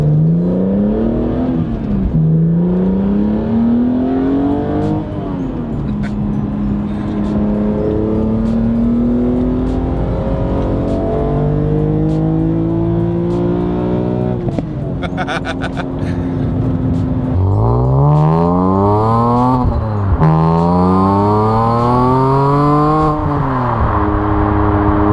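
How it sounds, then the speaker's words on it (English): A BMW Z4M Coupe's naturally aspirated M3 engine revs and accelerates hard through several gears, each pull rising in pitch before dropping at a shift, loud and close throughout. "These M3 engines still sound absolutely epic"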